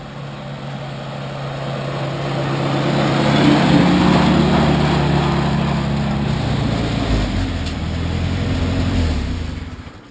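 A 1950s Farmall Cub tractor engine runs on a test drive, a loud steady chugging drone that swells as it passes close and fades near the end, with no talking.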